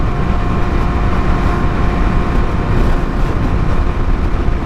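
A Yamaha R6 motorcycle on the road, its engine and wind rumble forming a steady loud broadband roar with no breaks.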